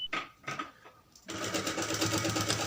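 A sewing machine stitches a school uniform belt: a few short starts and bumps, then a close, steady, rapid whirring run of stitching that continues to the end.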